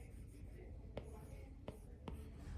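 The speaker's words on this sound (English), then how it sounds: "Let me write that better." Chalk or marker strokes on a board during a physics lesson on work and force: three brief, faint scratchy taps spread over a couple of seconds against soft room noise.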